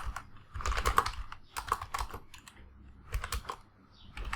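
Code being typed on a computer keyboard: quick irregular bursts of close, crisp key clicks with short pauses between them, heard alone.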